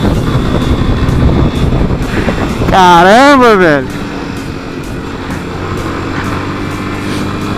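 Yamaha Fazer 250 motorcycle accelerating on a ride, its engine drone buried under steady wind rush, with a brief loud wavering rise-and-fall of pitch near the middle; someone speaks briefly.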